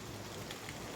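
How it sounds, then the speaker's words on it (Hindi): Heavy rain falling during a power cut, a dense, even hiss of downpour that is steady and fairly soft, with no voices. "अब बहुत ज्यादा बारिश हो रहा है गाइस"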